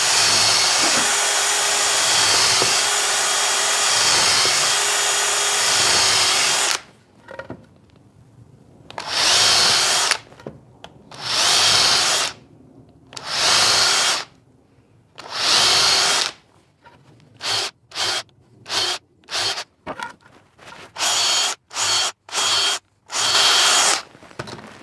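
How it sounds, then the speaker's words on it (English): Power drill boring pilot holes through wooden wall battens for screws: a long continuous whine first, then a series of short, loud bursts with brief pauses between them, close up and with no talk. "I'm just gonna turn them over and pilot them through for a couple of screws for each one."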